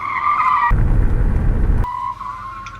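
A cartoon-style car racing effect with two cars, one white and one red: a loud engine whine gives way to a harsh rushing tire skid for about a second, then the revving returns, with no voices.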